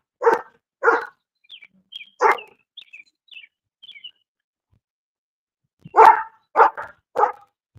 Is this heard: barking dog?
yes